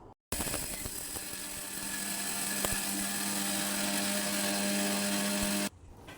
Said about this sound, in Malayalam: ചവ്വരി നല്ല മാവ് പരുവത്തിൽ ഗ്രൈൻഡായി കിട്ടണം.